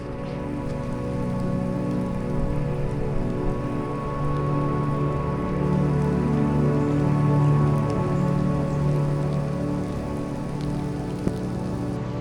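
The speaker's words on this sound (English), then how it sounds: "So it started to rain pretty heavily again." Heavy rain drums steadily on a shelter roof at a bush campground, a dense, loud, unbroken patter with a low hum beneath.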